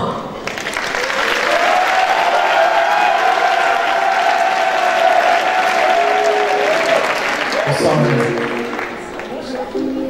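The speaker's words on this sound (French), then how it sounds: "accueillons à vos applaudissements celle qui porte le numéro 1." Audience applauding and cheering at the Miss Picardie 2019 beauty pageant as a contestant is welcomed, a dense, loud wash of clapping sustained for several seconds before tapering, with a voice and music entering near the end.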